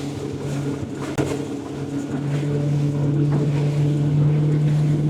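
A Highfield 560 Sport motorboat runs at speed through choppy waves in strong wind, its engine droning steadily under buffeting wind noise and water slaps, rising in intensity as it pushes on.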